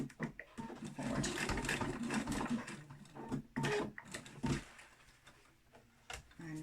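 Sewing machine stitching a homemade cloth face mask, a close, steady mechanical whirr running in bursts with brief pauses for a backstitch.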